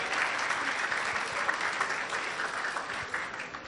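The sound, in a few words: applause for the MCs at a wedding reception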